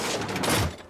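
Slow-firing turret cannon in Guild Wars 2, giving a single dull booming shot with a broad rumbling burst that swells and fades within a second, heard alone.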